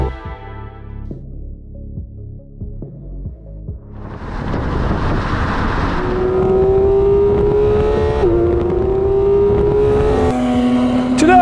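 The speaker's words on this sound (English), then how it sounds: "to drive this, the new 992 GT3RS" A Porsche 992 GT3 RS sports car starts with a low idle and some mechanical ticking, then its engine roars up. A loud, steady high-pitched howl follows, shifting pitch as it revs, with wind buffeting the microphone.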